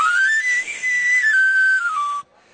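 A knife sharpener's traditional chiflo whistle plays a bright sliding run of pitches for about two seconds, loud and close, then cuts off to near silence.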